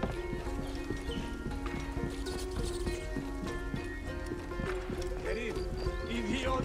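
Horse hooves clip-clopping at a gallop in the video game Assassin's Creed Origins, a steady rapid rhythm running throughout, mixed with game sounds and someone talking over it.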